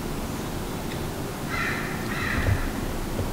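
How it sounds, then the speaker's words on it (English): A few distant crows cawing in short rough bursts over a quiet wooded backyard in Tacoma, Washington. "I can hear some crows, man."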